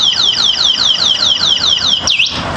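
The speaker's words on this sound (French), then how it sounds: "si jamais quelqu'un essaye de bouger le scooter, l'alarme s'enclenche la première fois" An electric scooter's anti-theft alarm, triggered by someone trying to move the parked scooter, wails in a steady run of rapid, repeating swoops before ending on one longer downward sweep, loud and close with no talking.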